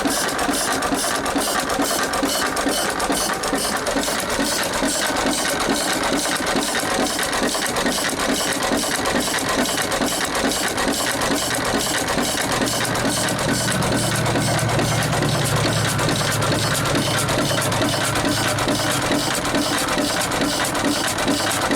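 A vintage Sattley stationary engine runs after a cold start, a steady, loud, fast mechanical clatter throughout, with a low hum that rises partway through and no talking.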